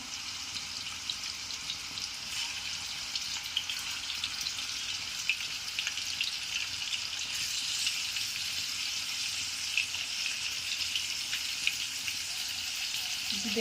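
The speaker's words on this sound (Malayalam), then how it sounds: "ഇനി നമുക്ക് ചിക്കൻ ഒരഞ്ഞ് ഇട്ട് കൊടുക്കാം ജസ്റ്റ് ഒന്ന് ഫ്രൈ ചെയ്തെടുത്താൽ മതി" Chicken pieces fry in hot oil in a pan, giving a steady, even sizzle with fine crackling that carries on without a break and with no talking.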